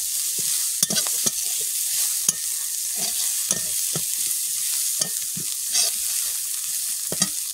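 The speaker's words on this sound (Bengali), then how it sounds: "সঙ্গে চিংড়ি মাছগুলোও দিয়ে দেবো। এটা সিদ্ধ হচ্ছে," Shrimp cooking in a pot: a steady bubbling, sizzling hiss runs throughout, broken by occasional soft clinks and stirring knocks, with no talking.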